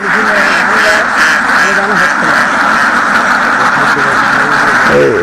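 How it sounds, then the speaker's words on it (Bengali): Ducks on a duck farm quack loudly and continuously, many birds calling at once close by, with a voice speaking over the flock. "এইগুলা হাঁস"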